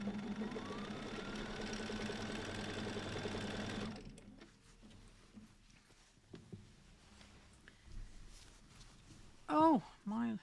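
A sewing machine used for free motion quilting runs with a steady whirring hum for about four seconds, then stops, leaving a quiet room with faint clicks and a few brief voice sounds.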